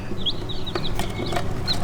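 Red Mottled Ancona bantam chicks peep and cheep in quick, high, scattered calls, several birds close by over a steady low background hum, with no talking.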